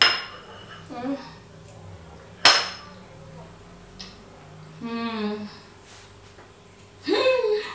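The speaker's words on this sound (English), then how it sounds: "Got my golden fork over here. I'm going for a slice." A golden fork clinks against a plate while cutting a slice of vegan poke cake, a few sharp metallic taps spread out between talking.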